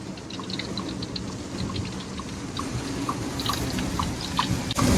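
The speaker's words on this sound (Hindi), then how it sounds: "गाड़ी के ऊपर सिर्फ पानी का टप टप टप टप आवाज़ आ रहा है" Heavy rain patters on the roof of a Tata Sierra EV as scattered, irregular drips tap steadily over a constant wash of water noise, heard from inside the car.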